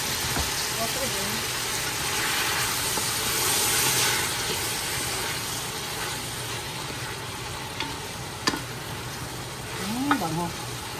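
Tomatoes sautéing in a pot for beef pochero, a constant close sizzle with occasional stirring clatter and spoon taps, and a voice speaking faintly over the cooking.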